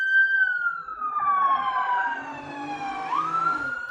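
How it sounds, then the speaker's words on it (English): A loud, piercing emergency siren passes outside, its wailing tone gliding down and rising again, clear and prominent throughout. "very piercing siren that just came through"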